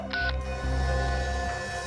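Telephone tones after a call is cut off, a series of electronic beeps with steady hum-like tones behind, fairly loud and close, with no voices.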